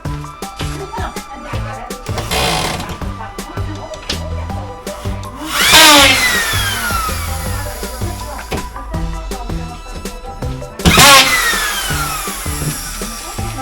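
A power drill fitted with a depth-stopper bit driving screws into gypsum board on a DIY renovation wall, short high whirring bursts that climb and cut off, over a steady humming background.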